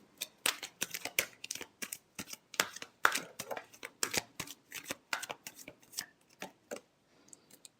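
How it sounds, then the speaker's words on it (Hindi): Tarot cards are shuffled close up, making a fast, irregular run of crisp riffling and flicking snaps that grows sparser toward the end. "Last shuffle."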